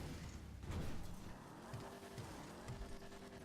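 A car in GTA V Online skids and slides through turns, tires squealing faintly over a steady engine drone, with occasional bumps and thuds.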